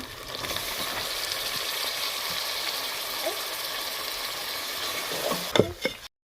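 Tomatoes fry in garlic and ginger paste for a chicken korma gravy, giving a steady, close sizzling hiss throughout, with a few utensil clinks and scrapes near the end.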